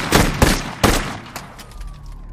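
Gunfire in an action film as police shoot a fleeing robber: three sharp, loud shots in quick succession followed by a fainter fourth, with reverberant tails and a thin lingering ring.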